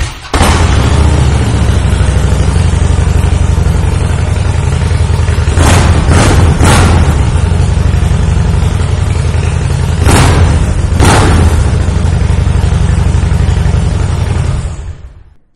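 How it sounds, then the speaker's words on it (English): A 2007 Harley-Davidson Softail Night Train runs with a loud, close exhaust, a deep continuous rumble broken by several sharp throttle blips before it cuts off near the end. "This exhaust is going to let the neighbors know that you have arrived home for sure"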